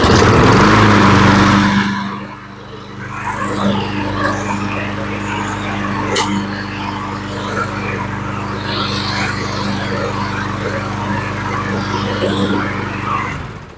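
A Brute lawn mower's small Quantum engine, freshly after carburetor repair, rattles noisily on starting, then settles into a steady running hum that continues, close and moderately loud.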